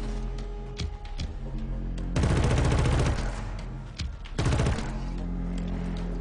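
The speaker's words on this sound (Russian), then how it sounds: "Стреляешь из этой пушки и ничего не видишь." Gunfire from a weapon in the Killzone video game rattles out in two sustained automatic bursts, loud and dense, over a steady game background.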